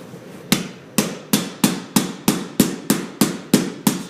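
Hammer tapping down a metal carpet edge strip during carpet installation: ten sharp, evenly spaced blows about every third of a second, loud and close, with no voices.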